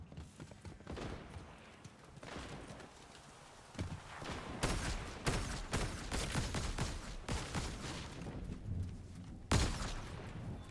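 Rapid bursts of gunfire from the video game Fortnite crackle through a busy game mix, with loud sharp shots stacking up near the end.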